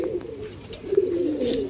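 Pigeons coo softly nearby in low, throaty bursts that overlap and run on continuously.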